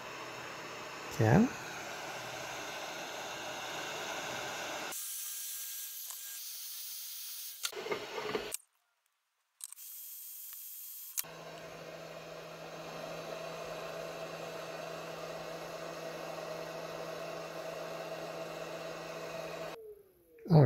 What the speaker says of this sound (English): here's our hot air gun